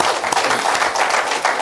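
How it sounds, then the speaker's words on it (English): Audience applause at a corporate stage presentation for a real-estate group, a steady, dense wash of clapping from a crowd, loud and continuous throughout. "A big round of applause for that."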